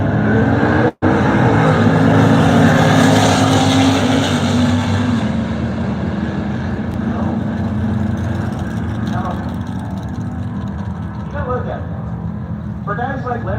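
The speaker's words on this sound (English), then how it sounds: "Smith, left side of the racetrack in the red 1965 GTO." A red 1965 GTO muscle car at a drag strip, its engine a loud, sustained roar holding steady with a brief dropout near the start, while an announcer talks over it.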